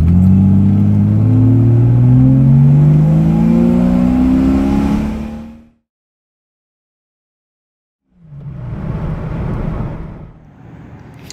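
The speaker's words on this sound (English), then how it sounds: "here's just a quick first gear pull" A Jeep Grand Cherokee pulls hard through first gear in Mexico, its engine revving loudly and climbing steadily in pitch before cutting off into silence. After a short gap a second burst of engine noise follows, close and loud.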